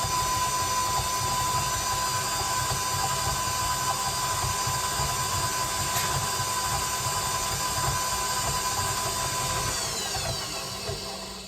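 Electric mixer whipping a stick of margarine and a stick of real butter for chocolate chip cookie dough, a steady close motor whine running continuously throughout with no talk.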